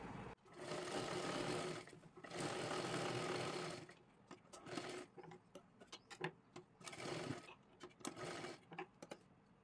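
A sewing machine stitches a kurti top in two long, steady runs of rapid whirring, then shorter stop-start bursts and clicks as the fabric is turned.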